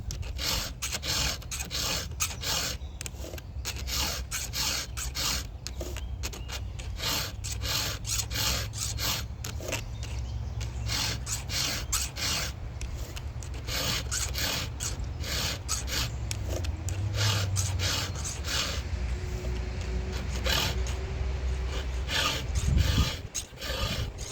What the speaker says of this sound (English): As soon as I see the cutting edge file up, clean up, I just go to the next tooth